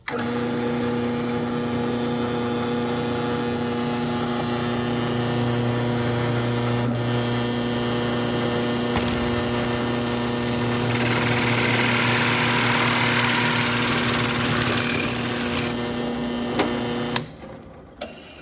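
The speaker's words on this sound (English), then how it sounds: "Drill press, this is great because it gives them more of a precise cut instead of having to use a hand drill." A drill press bores a hole for a bee feeder bucket plug, giving a steady motor hum with tonal whine that runs for most of the clip, then cuts off with a few clicks near the end.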